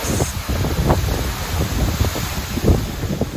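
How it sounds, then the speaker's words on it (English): Strong gusting wind from Hurricane Ian roars across the microphone in Florida, a dense continuous rush with rain-like hiss and buffeting bursts, loud and close. "Definitely starting to change, starting to get windier and rainier"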